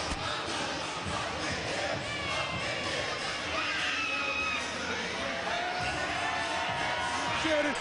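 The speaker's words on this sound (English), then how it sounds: "This Hoover Patriots crowd, they are pumped up out here today." The Hoover Patriots school crowd at a basketball game makes a continuous, fairly distant din of mixed voices and chatter, with occasional shouts rising from the steady noise.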